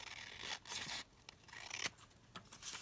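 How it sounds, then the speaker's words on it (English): Scissors snip and slide through paper while envelope booklets are trimmed, several close, quiet cuts in an irregular rhythm with short pauses between strokes. "So I'm just going to trim that down."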